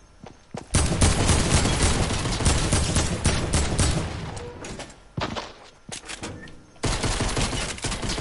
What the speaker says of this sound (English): She still took another shot.